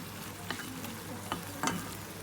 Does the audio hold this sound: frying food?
yes